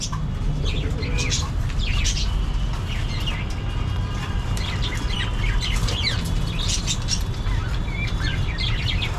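Pet pigeons gathered around feed chirp and flutter, with scattered calls and bursts of wingbeats over a constant outdoor noise.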